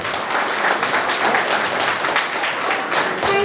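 Loud, dense audience applause at a school Rabindra Jayanti and annual award ceremony, sustained and even throughout.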